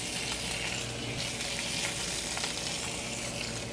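Halibut fillets sear skin side down in a hot pan over medium-high heat, giving a faint, steady, even sizzle with no talking.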